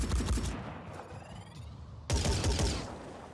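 Automatic turret return fire in the Phoenix Point strategy game comes as sustained rattling bursts. A loud volley opens the clip, it thins in the middle, and a second close, heavy burst cuts in after a sharp break.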